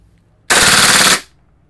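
A WE G18 gas airsoft pistol loaded with 0.20 BBs and Green Gas fires one rapid full-auto burst of about three-quarters of a second, loud and close, with no talking.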